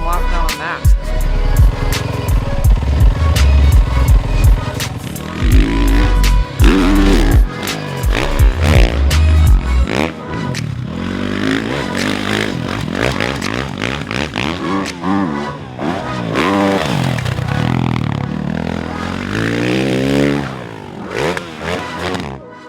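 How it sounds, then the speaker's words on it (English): A Monster Energy 360 Fly Chaparral factory Yamaha 450 motocross bike laps a Supercross track, its engine revving hard and dropping off repeatedly in rising and falling pulls, with some clattering at the start, loud and close throughout. "riding Chad Reed's Monster Energy 360 Fly Chaparral Factory Yamaha 450 steed right here, getting a few laps on the Supercross track"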